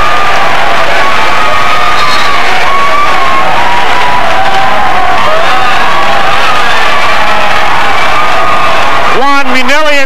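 A big crowd at a 1995 Pleasantville vs New Brunswick high school basketball game roars and cheers as Greyhounds player Juan Minelli enters, a loud sustained din of shouts and whoops with scattered voices and a sharp squeak near the end.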